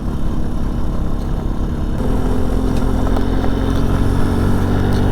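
A 2022 Benelli Tornado TNT 125 motorcycle ridden along at close to 30 mph, its small engine a steady, loud drone with road and wind noise, no talking.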